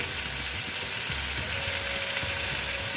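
Ridge gourd sautéing in a pan makes a constant, close sizzling hiss, with a few soft scraping thumps as the pieces are stirred.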